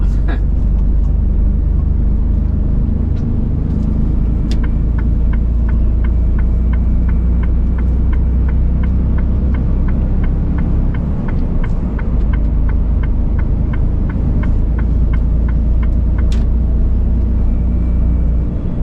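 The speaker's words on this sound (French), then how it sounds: "on récupère l'autoroute et puis il n'y a plus qu'à rouler" A truck cruising on a French-German motorway route, with a steady loud low-frequency engine and road rumble throughout, plus a faint regular ticking like an indicator over the drone.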